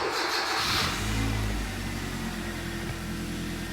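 A Kia Cerato's G4FC petrol engine, after an oil-consumption repair, cranks and catches, then settles into a steady, even idle with a continuous low drone, close and loud.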